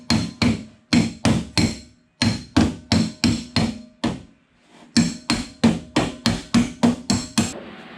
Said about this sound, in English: Well, got a dolly slapper.